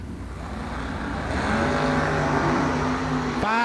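Drag racing cars, a Corvette and a Camaro, idling and revving at the starting line, a loud steady engine drone that builds slightly before a sharp shift near the end.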